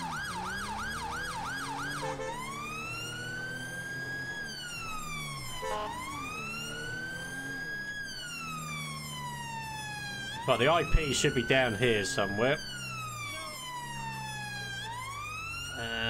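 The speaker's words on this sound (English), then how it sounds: "Let's kill the siren" Police car siren in GTA 5 with a British police mod, loud and close, cycling through long wailing sweeps with a burst of rapid yelp in the middle while someone talks briefly over it.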